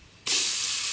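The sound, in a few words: spices sizzling in hot oil while sautéing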